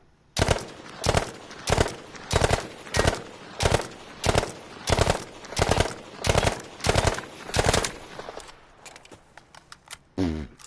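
Hip-fired automatic gunfire from Battlefield 5 comes in about a dozen evenly spaced short bursts, loud and close, with no talk over it. A few scattered mechanical clicks and a final shot follow once the firing stops.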